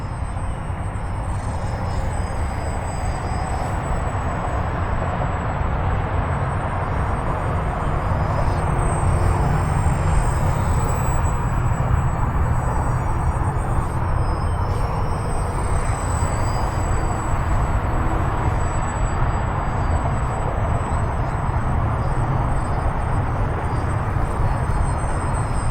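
An E-flite Micro Draco RC plane flies on a maiden flight, giving a steady, continuous motor drone with a faint high whine throughout, unbroken and fairly loud, with no talk.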